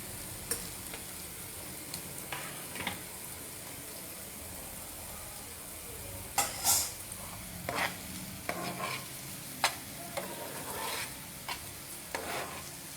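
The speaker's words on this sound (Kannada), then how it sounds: "ಈ ಪಾಸ್ತಾನು ಬೇಯ್ತಾ ಇದೆ." Pasta cooking in a pan and being stirred, a steady sizzling bubble underneath with occasional louder scrapes and clinks of the spoon against the pan.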